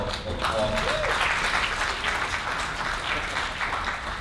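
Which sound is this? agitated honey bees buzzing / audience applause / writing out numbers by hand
audience applause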